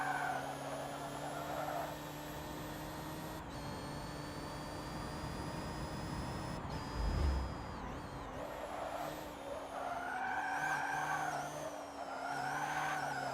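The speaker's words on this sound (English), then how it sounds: "A little bit of drifting." Forza Motorsport 7 racing car drifting, tires skidding and squealing under a continuous engine roar, with a deeper rumbling thump midway and a rising, sweeping engine tone near the end, no talking.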